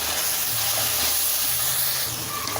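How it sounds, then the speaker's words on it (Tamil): Spices, white and black pepper and vegetables sizzling in a pan for Schezwan fried rice, a steady loud hiss of frying with a faint low hum beneath, no talking. "இதெல்லாம் நல்லா வதக்கிக்கலாம்."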